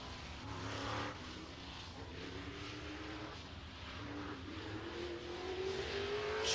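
A race car laps Showtime Speedway in Pinellas Park, Florida, its engine droning steadily and rising in pitch as it accelerates, heard from a distance with a constant roar throughout.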